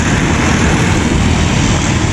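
A strained motorcycle engine labours on the road during a small touring ride, a loud, steady droning roar mixed with wind rush, close and continuous.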